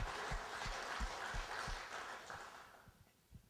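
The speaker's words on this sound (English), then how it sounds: "let's give a round of applause for those folks." Audience applause at a Trout Unlimited gathering, a broad, steady wash of clapping that fades gradually toward the end.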